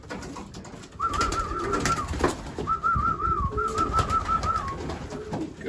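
Young racing pigeons cooing as they come in: close, rolling coos repeated in several warbling phrases over faint background rustle, with no voices.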